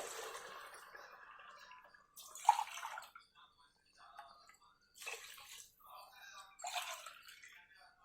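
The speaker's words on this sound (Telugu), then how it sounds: "ఇప్పుడు ఇదే గ్లాస్తో 3 గ్లాసులు నీళ్ళు వేసుకోవాలి" Three separate glassfuls of water splashing into a cooking pot for chicken pulao, close and fairly quiet, with short pauses between pours.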